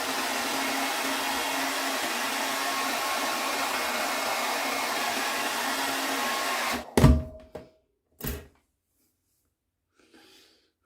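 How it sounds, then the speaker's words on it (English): A blow dryer runs steadily and loud at close range while a beard is combed through during a beard clean-up, then it shuts off abruptly, followed by a few handling thumps and quiet. "I'm going to comb through one more time with the blow dryer."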